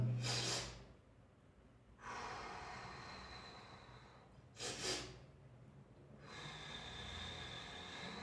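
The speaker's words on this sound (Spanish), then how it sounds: "son 2 inhalaciones profundas seguidas de una respiración larga" Two sharp, deep inhalations in quick succession followed by a long, steady exhale, close and loud with no talking, the pattern repeating a second time partway through.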